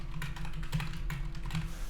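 Rapid, steady clicking of a computer keyboard, quiet and close, with irregular keystrokes continuing throughout and no voice over it.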